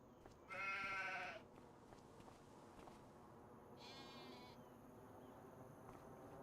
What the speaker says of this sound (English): Okay, so I've just brought a few more sheep.